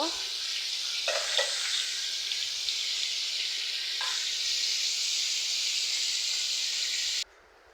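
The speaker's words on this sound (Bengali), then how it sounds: "এরপরেই তো আমি মাছগুলো ভেজে নিচ্ছি তো মাছটা কিন্তু মশলা মাখিয়ে রাখছিলাম" Masala-coated fish fries in hot oil with a loud, steady sizzling hiss and a few crackles, close and continuous with no talk, then cutting off abruptly near the end.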